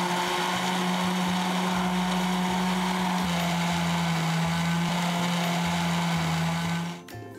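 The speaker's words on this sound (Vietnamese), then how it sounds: "Rồi bây giờ là mình bỏ vô máy xay sinh tố hả?" A kitchen blender whirs loudly and steadily, blending ingredients with water for Vietnamese bánh phục linh, its motor drone holding nearly constant before cutting off at the end.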